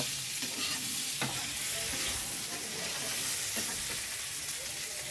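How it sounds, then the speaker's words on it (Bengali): Cabbage curry frying in a pan, giving a steady, moderately loud sizzle with occasional soft scrapes and clicks of stirring, heard close with no talking. "এই যে রান্না হচ্ছে, বাঁধাকপির তরকারি হবে এখন"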